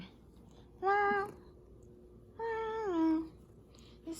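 A tabby cat meows twice indoors, two drawn-out, close and fairly loud calls about a second apart, with quiet room tone between.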